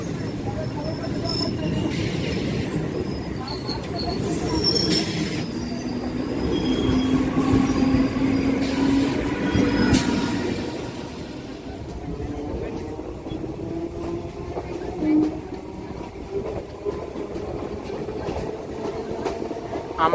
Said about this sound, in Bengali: আমরা ব্যারাকপুর স্টেশনে ঢুকছি 1 নম্বর প্ল্যাটফর্মে।